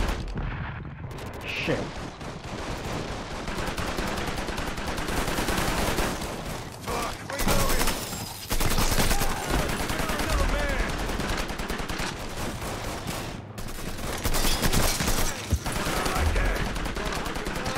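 Rapid gunfire in Mafia 3 comes in repeated dense volleys and bursts across the whole stretch, loud and close, with a man briefly cursing over the shooting.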